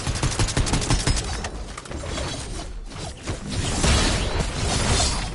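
Rapid laser gun shots crackle in Fortnite, a dense, fast string of bright zaps that slows into a busy, noisy roar of action, with no talking over it.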